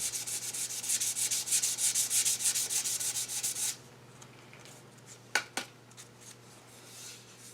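Sandpaper is rubbed rapidly back and forth on a large maple wood vase, a loud rhythmic scratchy rasp for several seconds, then it stops and a few faint knocks and clinks follow.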